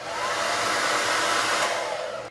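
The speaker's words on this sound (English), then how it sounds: "Because it takes me longer to blow dry my hair, I love that this Kipozi is lightweight." Kipozi lightweight hair dryer blowing on hair, a loud steady broadband whoosh of airflow running continuously and close, with no talking, cutting off abruptly at the end.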